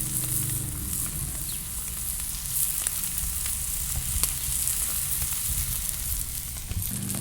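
A rib-eye steak sizzles on the MMM-Grill outdoors, giving a steady, close, continuous frying hiss and crackle with occasional small pops and no talk.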